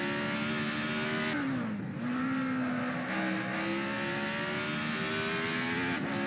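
A Formula 1 race car accelerates around the Adelaide circuit in a racing video game, its engine rising through gears in a loud, continuous, high-pitched whine with brief dips at shifts near two and three seconds.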